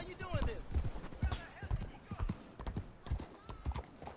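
Horse hooves in Red Dead Redemption, a rhythmic clip-clop of a trotting or cantering horse, close and steady, with voices talking over part of it.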